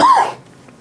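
A person gives a single short, harsh cough, close and loud, followed by quiet.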